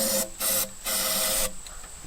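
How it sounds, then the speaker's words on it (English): Carburetor cleaner sprayed into the intake of an abandoned muscle car engine, heard as two loud close aerosol hiss bursts, one short and one longer, followed by a faint tail. "Give her the carb cleaner"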